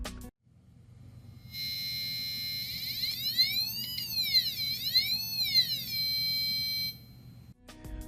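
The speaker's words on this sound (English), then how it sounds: "Create a circuit that uses 2 potentiometers to control your buzzer" A piezo buzzer on an Arduino circuit, with pitch and volume set by two potentiometers, sounds a shrill electronic tone that starts abruptly, wavers up and down in pitch in sweeping glides, then cuts off.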